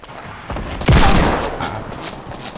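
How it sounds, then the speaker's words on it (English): In the Fortnite video game, carbine gunfire cracks out in a short burst of loud, sharp shots with a booming impact near the middle, then trails off into quieter echoing pops. "And then this stupid carbine comes and hits me!"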